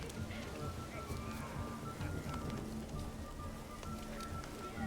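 Steady rain falls on a town street in The Witcher 3, a faint, even patter of drops spread across the whole stretch with no voices.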